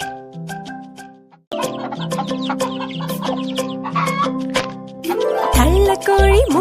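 Children's voices imitate a mother hen clucking and then her chicks peeping, in a rhythmic chanted classroom rhyme, loud and close with several voices joining together.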